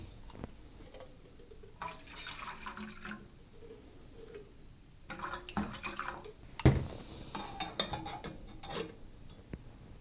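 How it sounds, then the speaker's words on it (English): Hot water from a tap or kettle splashes and trickles into a rinsed meal pouch in short bursts, with clinks and rustles of the bag between pours, nearby and fairly quiet. "Let's get some hot water."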